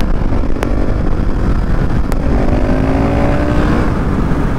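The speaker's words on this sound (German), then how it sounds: "so ein geiles Geräusch, wenn man die Kupplung zieht" A KTM SMC R 690 supermoto roars loud and close while revving through a wheelie, its engine note climbing in pitch over steady wind rush.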